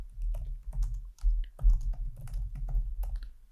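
Computer keyboard typed on at a steady pace while entering an SQL query, a run of close, crisp key clicks with a muffled low thud under each press, no talking.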